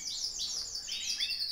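Caged breeding birds chirp and tweet continuously in a dense, overlapping chorus of high, bright calls, close and fairly steady throughout with no talking.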